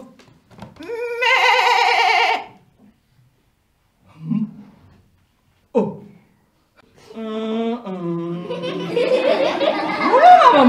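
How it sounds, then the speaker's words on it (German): A puppet-theatre sheep bleats, likely voiced by a performer: one long wavering bleat near the start, brief vocal sounds in between, then a longer stretch of bleating mixed with laughter-like sounds toward the end. "Das war doch ein Schaf."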